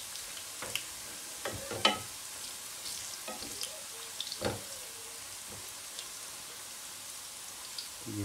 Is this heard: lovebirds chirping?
no